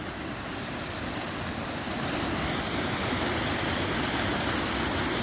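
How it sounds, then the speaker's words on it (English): Rain-swollen waterfalls in a Scottish woodland in November give a loud, steady roar of rushing water that fills the whole moment and builds slightly, broad and constant with no voices. "The advantage of strong rainfall is great waterfalls."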